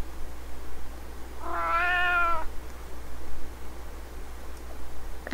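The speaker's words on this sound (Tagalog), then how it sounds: "Cute ng pusa." A single clear meow from a cat rises and falls over quiet background hiss, followed by faint rustles and a small tick near the end.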